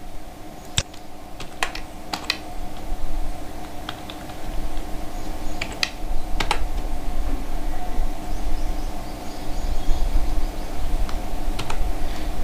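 Computer mouse left and right clicks, a few sharp separate ticks spread out over a steady low background hum, with no talk.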